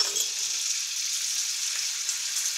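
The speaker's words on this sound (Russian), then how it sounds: "нарезанную сосиску поджариваем на растительном масле" Sliced sausage fries in vegetable oil in a pan, giving a loud, steady, close sizzle and crackle that runs unbroken throughout.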